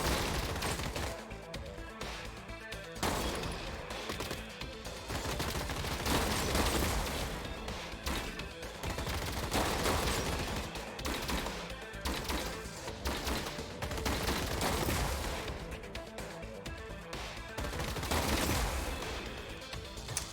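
Machine gun fire crackles in rapid, continuous bursts through a Gladiabots robot battle, mixed with dense game sound effects, heard at moderate level with no talking.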